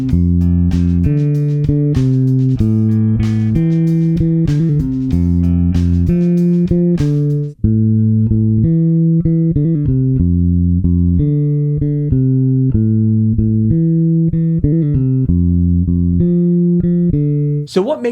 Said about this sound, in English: The bass line's 4 bars long and sounds like this.